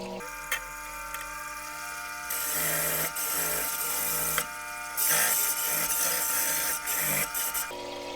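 A lapidary saw blade is sharpened for cutting agate, giving a loud steady mechanical grinding whine that stops and restarts several times in separate bursts.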